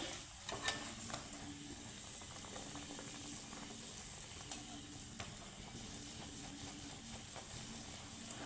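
Luchi frying in hot oil, a faint steady sizzle with a few light clicks and scrapes from a utensil in the pan, heard up close with no talking.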